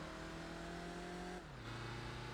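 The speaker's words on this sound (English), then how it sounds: "It actually sounds like a diesel as well." A diesel-sounding car engine in Gran Turismo 4 drones at a steady pitch, then drops lower as the revs fall or a gear changes, with a continuous synthetic engine tone and no talk.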